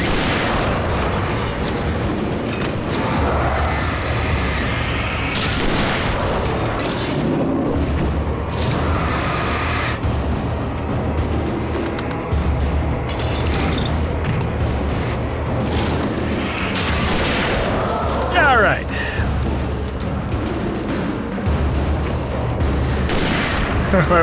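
Gunfire in the video game Alan Wake Remastered, a dense stream of loud shots, booms and impacts with dramatic game audio layered throughout, fairly continuous and close.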